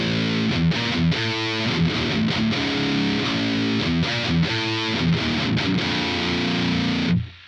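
Distorted electric guitar played through a VST cabinet-simulation plugin, with chords and riffs in a steady rhythm with short breaks, loud and close, ending in a quick cutoff.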